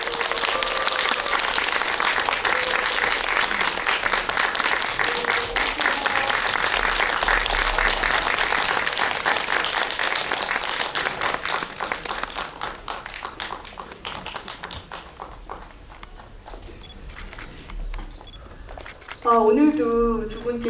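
Audience applause in a cinema hall for a film stage greeting, loud dense clapping that holds for over ten seconds, then thins into scattered claps and fades, before a voice speaks near the end.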